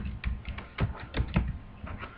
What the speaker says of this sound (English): I'm just going to type in Oedipus